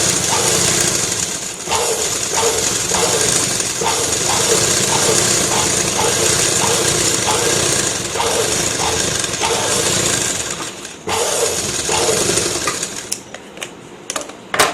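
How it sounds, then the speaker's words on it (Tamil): A sewing machine runs a straight stitch while a dori drawstring is being made, giving a loud, steady mechanical whir with a fast rhythmic pulse that briefly pauses and then drops away near the end. "இப்போ ஃபுல்லாக அப்படியே நெட்டாக தையல் ஓட்டிட்டு வரோம்"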